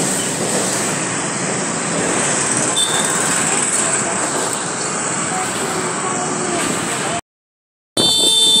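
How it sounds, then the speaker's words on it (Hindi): Metro train on an elevated track overhead in Lucknow, a steady loud rumbling roar filling the street scene for several seconds before cutting out briefly. "ऊपर ट्रेन निकल रही है।"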